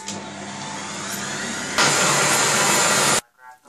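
An electric mixer blends cream for Smarties ice cream with a steady loud whir that steps up in speed partway through, then cuts off abruptly into near silence.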